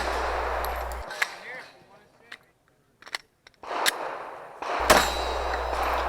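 Glock 17 pistol fired with Freedom Munitions ammunition at a USPSA match, several sharp reports spaced apart with ringing metallic impacts on steel targets, loud and close outdoors with quiet gaps between shots.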